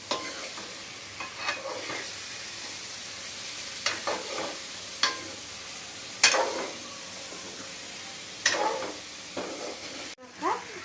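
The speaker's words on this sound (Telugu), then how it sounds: "ఇప్పుడు మంచిగా కలుపుకోవాలి." A tomato curry being stirred in a sizzling pan, with a steady frying hiss under repeated scraping strokes of a spoon at irregular intervals, close and moderately loud.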